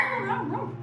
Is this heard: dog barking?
yes